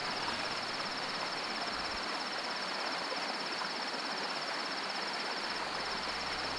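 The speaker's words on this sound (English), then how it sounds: "Man, that cicada sound." Dense, steady cicada buzzing fills the scene in the video game The Last Stand: Aftermath, a loud continuous high drone with a rapid pulsing texture and a faint low rumble beneath.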